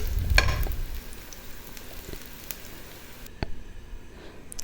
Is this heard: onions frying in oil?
yes